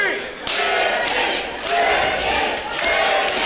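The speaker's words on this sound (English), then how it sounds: "Crowd getting behind Martinez here" Wrestling event crowd in Miami rising in surging waves of cheering and chanting, loud and full, with thuds from the ring in between.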